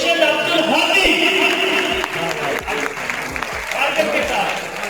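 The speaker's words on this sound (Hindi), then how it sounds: "और भरपूर तालियों के साथ" A crowd claps for a prize winner at a children's Quranic calligraphy and handwriting competition, steady applause with a few sharper individual claps and voices mixed in.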